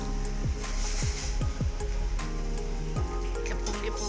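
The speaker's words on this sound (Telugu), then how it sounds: "ఇవి మరుగుతున్నాయండి." An herbal decoction boils in a pot on the stove, a steady bubbling rush with repeated popping and gurgling bursts close by and no speech.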